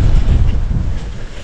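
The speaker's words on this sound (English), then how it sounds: "It's super windy already, so doubt we're gonna be sending too much here." Strong wind blows at an outdoor dog park, pushing a loud, steady rumble of gusts against the microphone for a short stretch.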